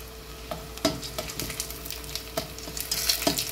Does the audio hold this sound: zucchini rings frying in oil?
yes